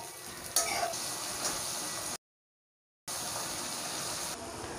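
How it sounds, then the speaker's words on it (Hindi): Crushed onion frying in a pan for Punjabi-style egg curry gives a steady, fairly quiet broadband sizzle that cuts to total silence for about a second, then picks up again at the same level. "थोड़ा इसे फ्राई करेंगे।"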